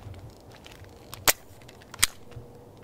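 A Nerf Elite Doubledown foam blaster fires two quick, snappy pops about a second apart, close and crisp against a quiet background.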